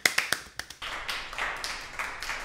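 A film slate snaps shut with a sharp clap, preceded by a few quick taps and followed by scuffling and shuffling on set.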